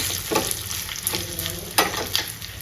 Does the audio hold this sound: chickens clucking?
no